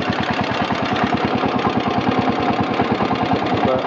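A 1966 John Deere 110 lawn tractor engine runs slowly at a low, even idle, its rapid steady thumping pulses close and loud with no pause or change in pace.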